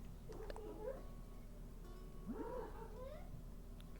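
A cat in the video game Animal Crossing: New Horizons meows twice, faint and drawn out, over a low steady background hum, with no talking.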